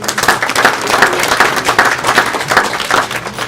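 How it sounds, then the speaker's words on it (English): Audience applause at a Kumon after-school program celebration: a steady, dense wash of many hands clapping at once, fairly loud and continuous with slight surges, and no talk over it. "Let us give her a big round of applause."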